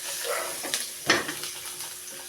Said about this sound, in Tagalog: Pailitin muna natin mantika natin. Okay, lagyan na natin yung bawang natin.